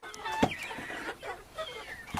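Soft peeping from chicks and ducklings nearby, with clucking, scattered short calls and light scuffling in the background.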